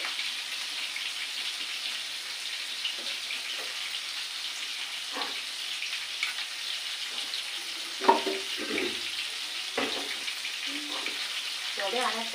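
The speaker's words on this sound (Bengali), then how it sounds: "মাছগুলো ভালো করে কাটিয়ে দিলাম যাতে ভালো করে ভাজিটা হয়" Fish frying in oil in a pan gives a steady, soft sizzle broken by scattered pops and crackles, fairly quiet throughout.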